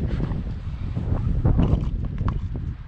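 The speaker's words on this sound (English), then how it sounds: "it's getting windy out here" Wind gusting outdoors beside a motorcycle in a workshop yard, low rumbling buffeting against the microphone, close and swelling slightly in the middle before easing.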